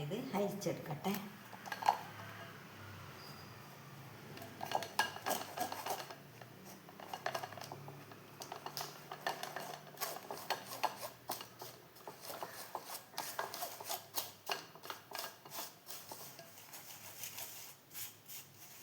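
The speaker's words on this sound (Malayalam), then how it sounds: "എല്ലാം കൂടി ഞാനിത് അരിച്ചെടുക്കട്ടെ." Wheat flour and a pinch of salt are sifted for an eggless cake, giving soft, quiet scraping and a run of rhythmic tapping ticks, with a voice talking at intervals.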